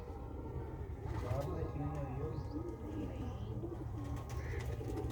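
A pet pigeon, a slightly unwell hen kept in a mesh enclosure, gives soft repeated low coos over a steady murmuring background with voices.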